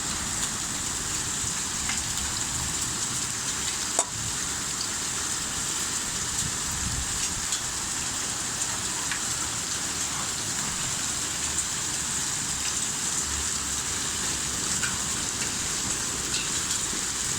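Heavy rain with hail pours down steadily during an October hailstorm in Buenos Aires, Argentina, a dense continuous hiss of drops and pelting hailstones, loud and unbroken, with one brief sharp knock partway through.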